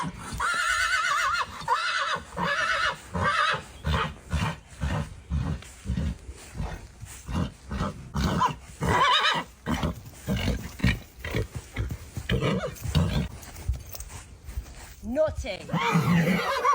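A stallion neighs and whinnies repeatedly in loud, close bursts with shrill, rough calls, while people talk over much of the sound.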